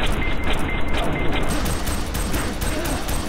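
Gunfire in the video game F.E.A.R. 3, dense and continuous shooting blended with game noise for the whole stretch, with a voice partly present underneath.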